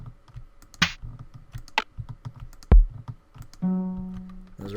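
Minecraft note blocks, struck one at a time, give short plucked tones amid sharp clicks, ending with a sustained harmonic note, all played alone and close.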